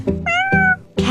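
A domestic cat meows three times in quick succession, each call clear and close with a rising-falling tone, the last one cut short at the end.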